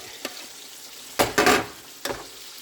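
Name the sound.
bean sprouts being stir-fried in pan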